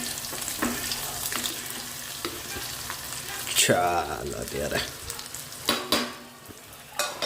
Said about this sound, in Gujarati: હવે આને છે ને આમનામ તેલમાં થોડી વાર એમ જ સાંતળવા દેવાના છે